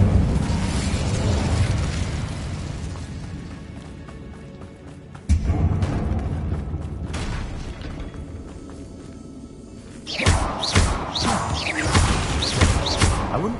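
Hogwarts Legacy's Incendio fire spell produces a loud, rumbling roar of flames that slowly fades. It is followed by renewed bursts and a cluster of crackling, whooshing flares, with a few breathy vocal sounds mixed in.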